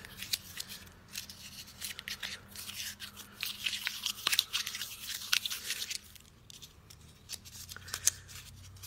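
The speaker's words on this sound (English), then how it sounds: "I'm gonna wad it up" A punched two-layer paper circle, about 2 1/4 inches across, is crumpled and wadded up by hand, making steady close crinkling and crunching for several seconds.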